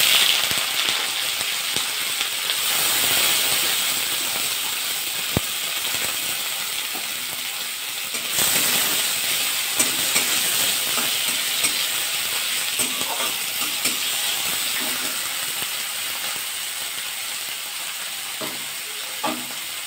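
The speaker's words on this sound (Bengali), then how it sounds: "পেঁয়াজগুলো নরম হয়ে যাবে তাতে ভাজাটা হয়ে যাবে" Onions, cumin and dry red chillies sizzle and fry in oil in a pan, a steady hissing crackle that carries on throughout with occasional stirring clicks, fairly close and with no talking.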